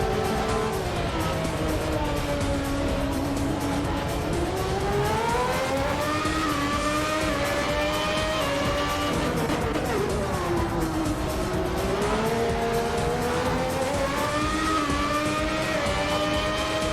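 A 1994 Formula One car engine in the Assetto Corsa racing game screams continuously at high revs, its pitch rising and falling through gear changes and corners, loud and close throughout with no talk.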